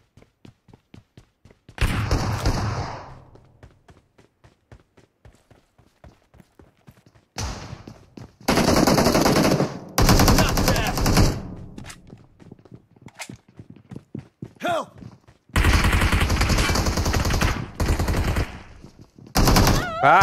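Automatic M416 rifle gunfire in PUBG Mobile, heard as several loud, sustained bursts separated by short gaps, with footsteps and scattered single shots between them.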